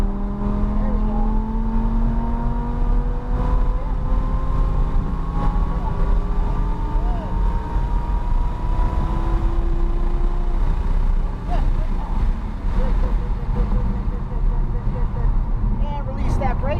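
Lamborghini Huracan LP610 accelerating hard on the NJMP race track, engine note climbing in steady rising sweeps as it pulls through gears, loud and continuous from inside the car, with an instructor talking over it.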